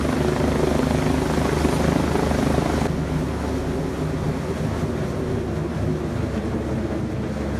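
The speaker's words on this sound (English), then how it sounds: "This helicopter rescuing someone in a canyon." A helicopter rescuing someone in a canyon gives off a loud continuous rotor and engine roar with rushing wind noise, steady throughout and close.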